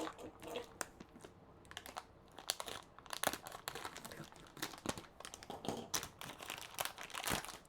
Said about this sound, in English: I've never actually gotten to open a brand new graphics card like this.